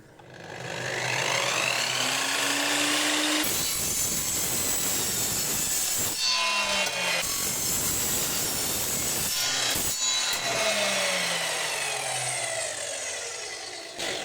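A GTM HM 1032 miter saw cuts through plastic in several loud passes, a steady whirring motor broken by harsher grinding bursts where the blade bites, with brief pauses between cuts and no talk.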